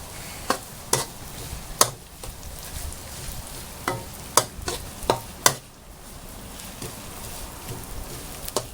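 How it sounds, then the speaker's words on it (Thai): Stink beans stir-fried with shrimp paste and shrimp in a pan, a constant soft sizzle broken by sharp spatula clacks against the pan at irregular intervals, close up with no voices. "แล้วเราก็ อันนี้ลงไปผัดเลยครับ"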